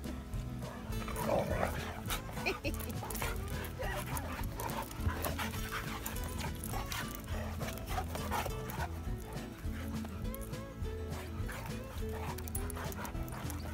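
A large pit bull and a husky play together, panting heavily and rhythmically up close, with scuffling paws, occasional barks and people chatting in the background throughout.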